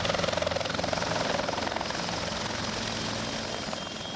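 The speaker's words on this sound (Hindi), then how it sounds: "आसमान में हेलीकॉप्टर से उड़ रहे हैं" A helicopter flies overhead with heavy, rhythmic rotor thumping and a steady turbine roar, loud and close throughout.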